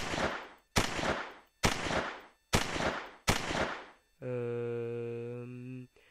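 An Uzi submachine gun fires five loud single shots, each evenly spaced with a sharp crack and fading tail, followed by a sustained buzzing tone.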